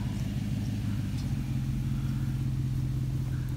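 An AU Ford Fairmont V8 wagon engine rumbles in a steady, deep, even drone, close and constant with no voices over it.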